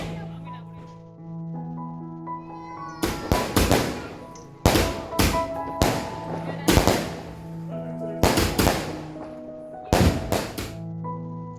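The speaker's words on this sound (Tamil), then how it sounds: "அந்த பூண்டு வெடின்னு சொல்லுவாங்கல்ல," Poondu vedi (garlic bomb) firecrackers bursting at a Diwali celebration: about seven sharp, loud pops come in irregular pairs and singles over a steady background hum, with faint voices in between.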